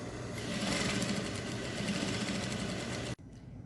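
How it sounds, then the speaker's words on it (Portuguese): A sewing machine runs steadily as it topstitches along a zipper on a custom fabric school pencil case, holding a continuous mechanical whir for about three seconds before cutting off abruptly. "a gente faz aqui um pesponto de acabamento nesse zíper"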